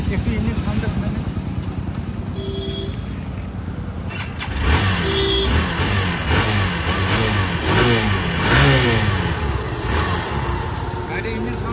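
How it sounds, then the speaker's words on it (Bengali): A second-hand motorbike engine runs steadily nearby, then revs up and surges repeatedly in the second half, loud and close. "এবার আপনাদের গাড়ির একটু ইঞ্জিন সাউন্ডটা শুনিয়ে দেয়, একটু ইঞ্জিন সাউন্ডটা শুনে নেন।"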